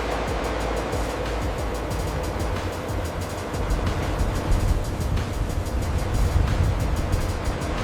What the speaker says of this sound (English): It enters a massive rotary drum dryer.